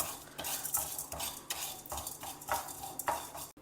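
Urad dal and channa dal roasting in a pan, stirred with a spoon in a steady rhythm of scraping and clinking strokes against the metal, close and clear, with a light sizzle beneath.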